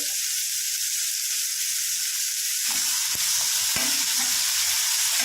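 Garlic-ginger paste and tomatoes fry in hot oil for a sprouted moth bean curry, making a loud, constant close-up sizzle with a few soft taps of stirring partway through.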